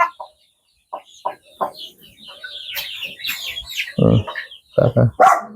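Chickens cluck in short, irregular bursts at close range on a farm that also keeps cows, with a few louder calls near the end and no talk over them.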